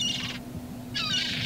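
A bird in The Secret of Monkey Island video game gives two short, bright chirping squawks separated by a brief pause, clear against a low steady hum.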